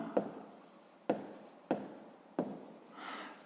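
A pen scratches on paper while a sixth-grade maths exercise is written out by hand: four sharp taps of the pen, each followed by brief scratchy strokes, close and quiet, with no talk.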